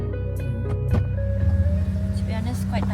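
Inside a moving car, a low steady road rumble and engine hum fill the cabin, with small clicks and rustles and brief bits of voice over it.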